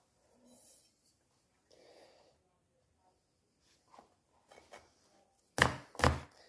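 A knife chops lettuce on a cutting board, with scattered light scrapes followed by two sharp, close chops, and quiet breathing and talk in between.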